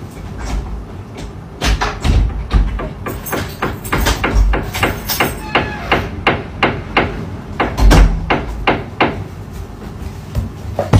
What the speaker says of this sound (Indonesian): Ada yang ketok pintu.